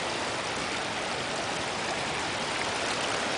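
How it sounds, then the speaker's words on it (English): Creek water spilling over a small log in a mountain forest, a steady close rushing splash with no pauses, filling the whole stretch evenly and fairly loudly, with no voices. "it's a waterfall right over a little log"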